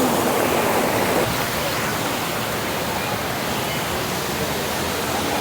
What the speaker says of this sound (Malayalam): ഇതിലിങ്ങനെ വെള്ളം ഒഴുകി പോകുന്നുണ്ട്.